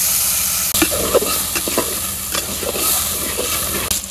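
Potatoes and leafy greens frying in a pan for a Bengali village dish, a loud continuous sizzle broken by repeated scraping clatters of the spoon stirring, close by with no talking.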